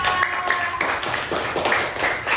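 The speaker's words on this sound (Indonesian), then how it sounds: "Tepuk tangan untuk Naura." A classroom group at a coding and artificial intelligence training session claps for a student, a fairly close, loose burst of hand claps in uneven pulses with some background chatter.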